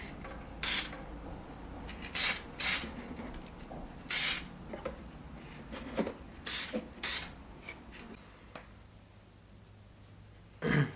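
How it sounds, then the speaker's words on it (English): Several short hissing spray bursts, fairly close, spaced irregularly with quiet gaps and faint handling noise between them. "spray something over it"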